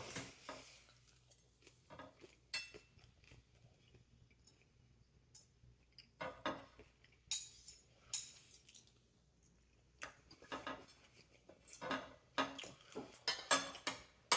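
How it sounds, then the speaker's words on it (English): A knife sawing through Pizza Hut pizza crust on a plate, heard as intermittent close scrapes, clicks and cutlery taps in short bursts separated by quiet pauses. "So I'm gonna cut off a piece of the crust here"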